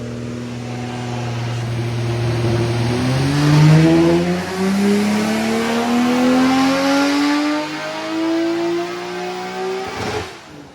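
Nissan R34 GT-R engine on a dyno during an untouched baseline power run, climbing steadily from low revs to a loud, rising howl over about eight seconds before cutting off abruptly.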